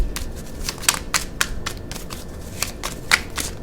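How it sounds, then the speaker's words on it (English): Tarot cards being shuffled by hand, a close run of crisp riffling snaps and soft slides in uneven bursts, with no talking. "All right, so I'm shuffling"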